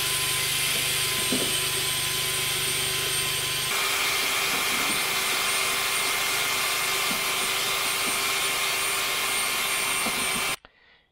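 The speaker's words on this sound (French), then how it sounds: "je vais démarrer le groupe électrogène déjà" Petrol generator running to power a mixer outdoors, a steady loud engine drone with a whining hum that shifts pitch partway through, then cuts off abruptly near the end.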